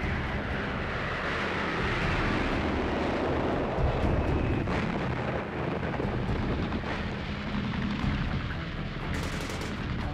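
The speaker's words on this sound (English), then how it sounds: "Sky Raiders prepare the way with their terrifying napalm bombs" Napalm bombs dropped by Skyraider aircraft explode in a continuous distant rumble of blasts and crackling fire, mixed with aircraft engine drone.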